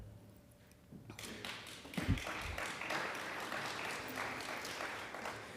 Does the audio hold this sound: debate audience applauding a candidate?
yes